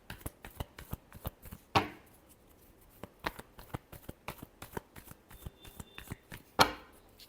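Tarot cards are shuffled by hand in quick, soft riffling taps, with two sharper snaps where the deck is squared, close and quiet.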